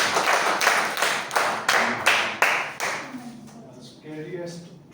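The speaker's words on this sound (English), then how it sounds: "With a big round of applause" A handful of people at a public speaking club meeting clap in slow, rhythmic unison, about seven distinct claps, then fade as a voice begins speaking.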